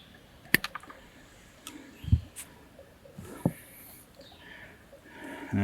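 Wire cutters snipping through the wires of a 2002 Dodge Dakota blower motor plug, a few sharp isolated clicks and snaps spaced over several seconds against quiet background, close and fairly faint.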